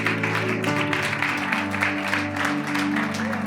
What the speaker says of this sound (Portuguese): Uma salva de palmas bem forte pro Kevin.